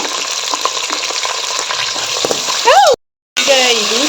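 Onions and green peas sizzle and fry in a pan with cumin, curry leaves and bay leaf for vegetable pulao, a steady close crackle with a brief stir and a short cutout near the end.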